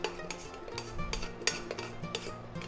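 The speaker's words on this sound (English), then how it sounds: "I'm just going to go ahead and add in the chana dal to this" Cooked chana dal is added to a pot of bottle gourd curry, with soft metallic scrapes and clinks of a spoon against the pot, faint and close, with a low hum underneath.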